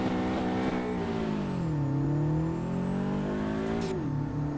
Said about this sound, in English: This would have been better if the motor wasn't turboed, because we had a lot more grip, but we're just gonna go full send.